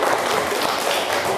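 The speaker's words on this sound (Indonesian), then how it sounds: "Tepuk tangan untuk Marta." Classroom students clap for a classmate in an Indonesian school lesson, a short burst of fairly loud, close, busy applause with no talking.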